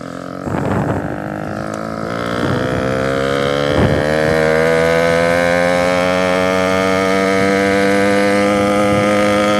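A small 80cc two-stroke motorized bicycle engine buzzes steadily at high speed down a hill, its whine rising gradually in pitch, with a few short pops and wind rush; loud and close, no talk.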